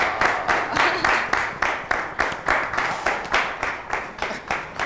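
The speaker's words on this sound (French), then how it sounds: "qu'on applaudit très, très fort" An audience claps for a woman being welcomed on stage at a talk event, with steady, dense, fairly loud applause pulsing in waves throughout.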